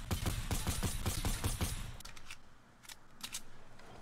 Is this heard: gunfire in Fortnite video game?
yes